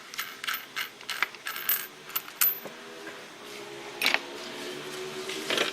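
A small metal nut from an HID projector headlight housing drops and clinks onto a hard surface, several light tinny taps and rattles in quick succession, close and fairly quiet amid faint handling noise.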